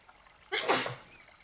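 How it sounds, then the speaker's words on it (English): A single sneeze bursts out close by, a sharp breathy blast followed by a short fading exhale, with quiet room tone around it. "I know, I normally do a multi-sneeze."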